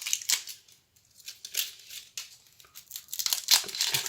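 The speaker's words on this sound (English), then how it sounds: "First, you gotta peel it." Dry crinkling and tearing of papery onion skin being peeled by hand, a series of close, irregular rustles with brief quiet gaps between them.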